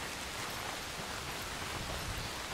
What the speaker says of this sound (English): The rain is going to make that tough, though.